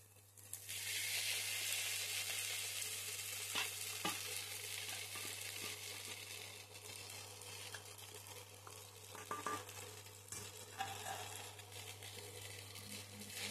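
Maggi noodles frying in a pan with egg and softened vegetables, giving a steady, close sizzle with scattered scraping and clinking from stirring, no voices.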